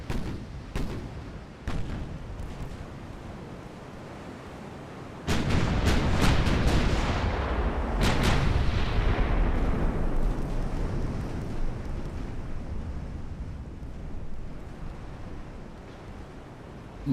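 Warship guns fire and shells strike in the naval game Ultimate Admiral: Dreadnoughts, with sharp booms and then a huge sustained roaring blast that slowly rumbles away, loud and alone.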